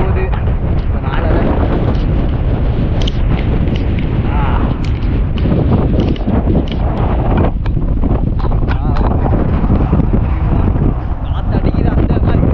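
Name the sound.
wind blowing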